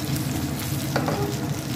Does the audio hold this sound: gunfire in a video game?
no